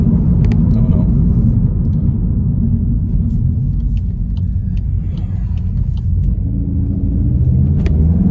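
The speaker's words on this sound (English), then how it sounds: "It's a really nice, deep sound. It feels like you're driving a bigger engine." A Volkswagen Golf GTI Clubsport's 2-litre engine gives a deep, continuous rumble from inside the moving car, loud and low with faint rises in pitch near the end.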